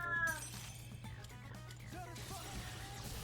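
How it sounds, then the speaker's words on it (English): A cat meows in a few short, drawn-out calls close by, faint against quiet background game music. "I hate that cat."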